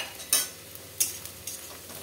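Green chillies hit hot oil with browned onions for a Bengali chicken kosha, a quiet sizzle underneath three sharp, separate clinks and scrapes of a spoon against the pan.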